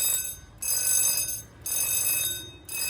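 Fire alarm control panel at a municipal fresh market sounding its fire alert, a loud electronic ringing tone in three repeated bursts separated by brief gaps, with no talk.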